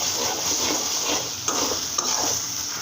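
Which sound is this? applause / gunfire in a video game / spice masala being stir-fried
spice masala being stir-fried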